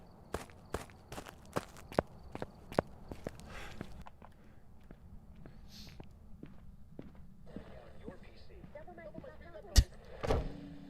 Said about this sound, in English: listen to the footsteps a little bit more closely